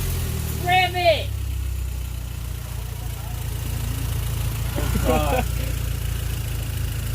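A Hyundai Genesis fitted with a K&N air intake idles in a low steady drone, with a couple of brief high squeaks and people talking nearby over the engine.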